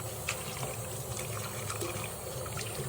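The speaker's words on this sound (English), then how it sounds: "you're going to take your sink and fill it up with some warm water" Warm water runs from a tap into a kitchen sink as it fills, a steady splashing trickle with small irregular plops, fairly close and without any voices.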